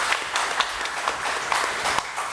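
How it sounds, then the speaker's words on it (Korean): A church congregation claps at a Korean Easter Sunday service, a steady patter of many hands with sharper individual claps rising through it, close and moderately loud for a couple of seconds. "부활의 주님께 감사의 박수를 칩시다."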